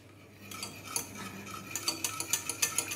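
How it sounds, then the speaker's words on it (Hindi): A wire whisk clicks quickly and steadily against a pan as milk is stirred while coming to a boil, the light metallic taps growing sharper and louder toward the end. "दूध में बॉईल आ गया है और इसे मैं लगातार विस्क से चला रही हूँ"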